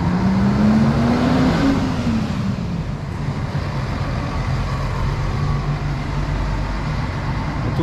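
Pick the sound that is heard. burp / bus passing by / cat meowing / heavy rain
bus passing by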